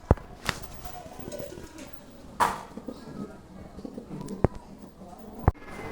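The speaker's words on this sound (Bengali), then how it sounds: "এই জোড়া কবুতর আপনাদের কিনতে হবে" A pair of Black Beauty pigeons cooing softly at close range, with several sharp knocks and clatters breaking in and faint speech in the background.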